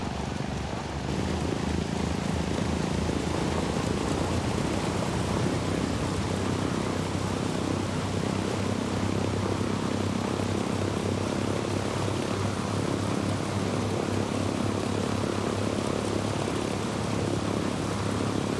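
An airplane in the video game Ghost Recon Breakpoint drones with a steady, loud engine roar that fills the whole stretch without pause, with no talk over it.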